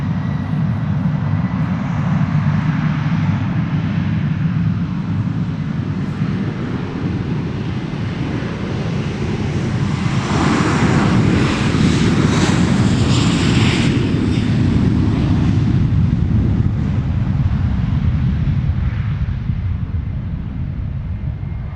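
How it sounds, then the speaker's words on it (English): Wizz Air jet engines spool up on departure, a loud, continuous broadband roar that swells toward the middle and then holds steady for about twenty seconds, with some wind buffeting. "Lovely noisy engines on spool up there from that latest Wizz Air departure."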